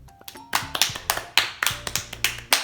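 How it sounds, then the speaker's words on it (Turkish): A young boy claps for himself, about a dozen sharp, close claps in a quick, slightly uneven rhythm, with faint background sounds. "Kendini de alkışlayabilirsin istersen"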